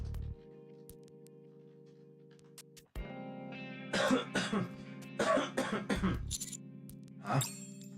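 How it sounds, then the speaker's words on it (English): Several short coughs echo from a corridor in the visual novel game Goddess of Victory: Nikke, coming in separate bursts over a low steady background hum after a quiet opening. "hear coughing coming from somewhere."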